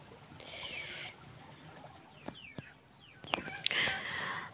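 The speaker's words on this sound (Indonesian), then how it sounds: "Suara jangkrik pangintennya Pak" Crickets chirping in a quiet rural setting around a house, a steady faint high trill with scattered brief calls and clicks over a soft background hum, no speech.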